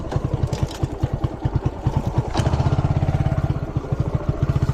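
A Suzuki GZ250 motorcycle ridden off-road: a close, rapid chugging engine beat with a clear pulse that briefly shifts with a clunk partway through, then carries on at a steady, slightly faster rhythm.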